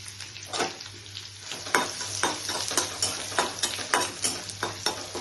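Pumpkin seeds frying with crushed ginger in a pan, a steady close sizzle broken by repeated stirring scrapes and clicks at an uneven rhythm, with no talk.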